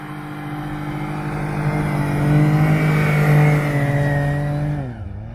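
Snowmobile engine revving hard while bogging in deep, loose taiga snow on a winter trip in Altai, a steady loud drone that swells in the middle and then drops off abruptly near the end.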